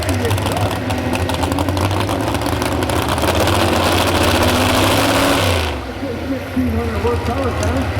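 A 1,600-horsepower truck-pulling engine at Lincoln Speedway runs loud and steady close by, dropping off sharply toward the end.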